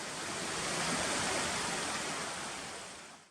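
Water in a stream crossing on a trail beside a river at the Dunraven / North Fork trailhead on Lookout Mountain gives a steady, close rushing wash that holds for the whole stretch and eases slightly at the end, with no voices.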